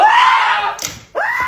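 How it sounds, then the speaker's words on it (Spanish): Children scream loudly at play, two shrill, rising cries close by, split by a short gap with a smack-like knock. "¿Qué son esos gritos?"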